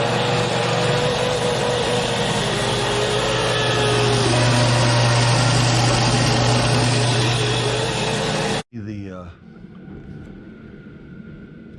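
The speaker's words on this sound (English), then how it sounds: "flip it over and sharpen it so everything is nice and sharp" A powered sharpening grinder works a tremolo arm part for a Fender Jaguar J Mascis Signature guitar, running as a loud, steady, high-pitched whine for about eight seconds before cutting off abruptly, leaving quieter workshop sounds.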